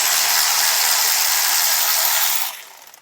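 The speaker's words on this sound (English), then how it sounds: "you don't have to use an electric ratchet if you don't want to or you don't have one" An electric ratchet loosening brake caliper bolts on a Mercedes GLE during a front brake replacement, a loud, steady whirring buzz for a few seconds that stops abruptly.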